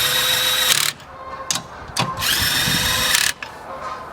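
A power driver runs wheel spacer nuts onto a 2002 Mitsubishi Eclipse RS, giving several short whirring bursts separated by brief pauses, close and fairly loud.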